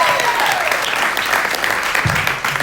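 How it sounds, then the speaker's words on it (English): A comedy club audience applauds a comedian after her set at a new-faces show, a dense, steady wash of clapping that holds loud and close throughout. "how about another round of applause for Marika?"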